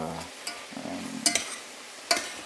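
Vegetables gently sweating in a pan over low heat for a winter soup base, heard as a soft, quiet sizzle broken by a few faint scrapes and clinks of stirring.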